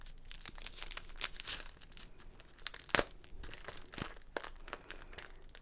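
Crinkling and tearing of packaging as something is unwrapped, with a sharp rip partway through and steady rustling throughout, close by.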